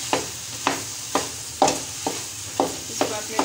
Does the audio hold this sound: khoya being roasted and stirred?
yes